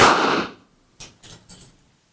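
A single sharp, loud burst as a ping pong ball cannon fires when its seal is punctured, followed by three softer knocking thuds close by.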